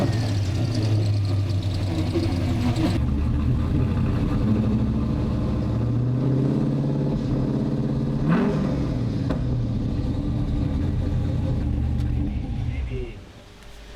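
A car engine runs on a dyno, droning steadily at high load with rising and falling revs and a sharp blip midway, then drops away abruptly near the end; no speech rides over the engine noise.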